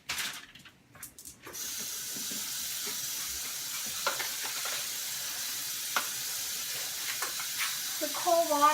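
Sugar cooks and browns in a hot pan for Lao pad see ew, giving a steady, soft sizzling hiss with occasional light clicks and stirring taps; a voice speaks briefly near the start and end.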